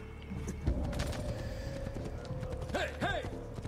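Horse hooves clip-clopping through a city street in Assassin's Creed 2, a steady rhythmic trot close by, with a couple of short whinnies near the end over faint game ambience.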